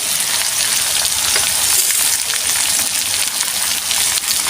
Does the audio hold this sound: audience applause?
no